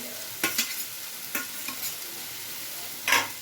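A spoon stirs soybean kosha with fried potato, fried soybeans and shredded coconut in a pan, giving a few soft scraping strokes near the start and a louder scrape near the end over a faint sizzle, with no talk.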